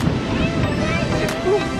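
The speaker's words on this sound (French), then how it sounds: "qu'est-ce qu'il y a du vent et qu'est-ce qui caille" Strong wind buffeting the microphone at a sailing beach where sand is blowing, a loud continuous rumbling gust with faint tonal whistles and no clear speech.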